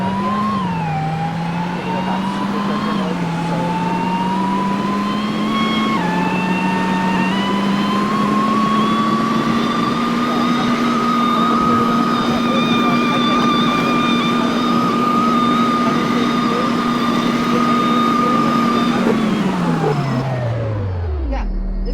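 A supercharged 4-cylinder car engine in the Roblox game Greenville revs and holds a high droning whine for about twenty seconds, climbing in steps, then drops off sharply at the end; loud and steady with no talk.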